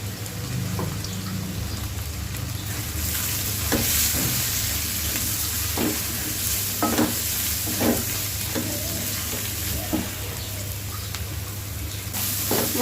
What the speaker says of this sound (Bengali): মশলাটা বেশ কষানো হয়ে গেছে, এখন বেগুনগুলো দিয়ে দিব।